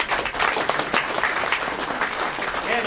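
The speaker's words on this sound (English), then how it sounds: "Let's have a round of applause for Camp." A small robotics club audience claps for a member's robot demonstration at a club meeting, a brief round of applause with some crowd murmur mixed in.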